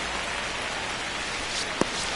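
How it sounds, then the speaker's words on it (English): Steady rain hisses over the ballpark in the baseball game MLB The Show 25, an even, dense patter with one sharp tap near the end. "This rain is not letting up."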